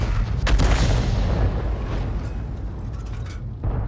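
In a tank battle video game, cannon fire strikes a Leopard 1 with deep, booming impacts: a heavy blast early on, a rumbling decay, then another boom near the end.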